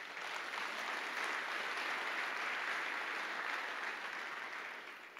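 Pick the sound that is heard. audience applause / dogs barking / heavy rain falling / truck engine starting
audience applause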